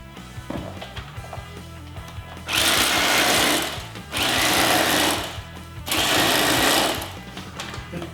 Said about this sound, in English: use the electric knife